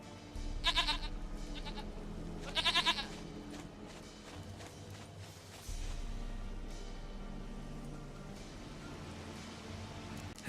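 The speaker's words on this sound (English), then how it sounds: "Goat of mine, dearest, sweetest goat." Goat bleats from the Witcher 3 video game, two loud wavering bleats early on over a steady bed of game music and ambient background sound.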